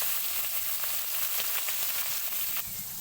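Fish frying in hot oil gives a steady, fairly quiet sizzle and crackle throughout, with no voices.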